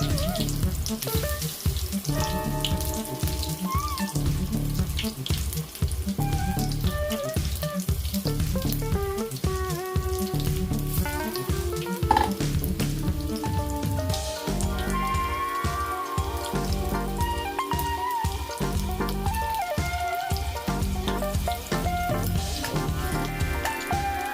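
Potato bajji fritters sizzle and crackle steadily in a pan of hot oil, a constant frying hiss under loud rhythmic background music.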